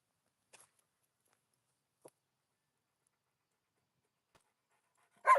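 An Alaskan Malamute makes a few faint, brief sounds in near silence, then gives a sudden loud bark or huff at the very end.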